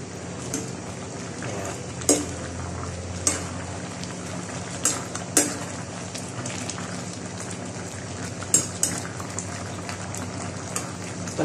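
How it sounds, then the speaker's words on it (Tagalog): A spoon stirring a pot of ginataang gulay, a coconut-milk vegetable stew with squash and string beans, a steady bubbling simmer with several sharp scraping clinks against the pot, no voices. "Haluin ko lang siya, guys."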